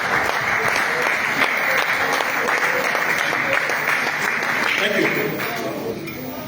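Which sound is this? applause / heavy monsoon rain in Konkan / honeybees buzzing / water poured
applause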